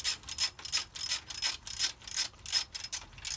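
A hand ratchet clicks in quick rhythmic strokes while torquing flywheel bolts on a Cummins engine, a close, crisp series of repeated ratcheting bursts with no talk.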